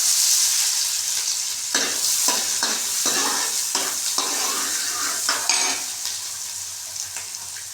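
Crushed cumin and onion fry in a pan with a loud, steady sizzle, broken by a run of scraping stirs and spatula knocks against the pan in the middle, no talking.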